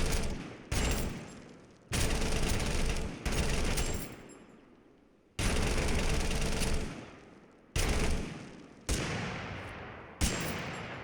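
Bursts of rapid automatic gunfire from a low-recoil weapon in the game TABG, six or seven loud separate volleys, each fading out before the next one starts.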